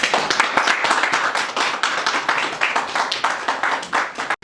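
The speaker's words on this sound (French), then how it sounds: "Applaudissez." Audience clapping at a ministerial handover ceremony for a gender and family minister: rapid, uneven claps from a sizeable crowd, close and loud, with individual hand strikes standing out before an abrupt stop.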